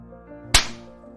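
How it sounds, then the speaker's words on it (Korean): A single sharp slap to the face, from a Korean radio drama, cracks loudly and up close over a soft musical background, then fades quickly. "제가 시어머니께 따귀를 날리는 순간 친정엄마가 달려들어 대신 맞은 거지요."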